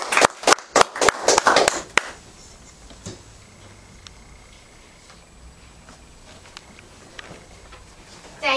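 Brief burst of clapping from a small group at a school newscast, honoring two new saints, about two seconds of quick claps up close, then fading into quiet room tone with scattered faint ticks.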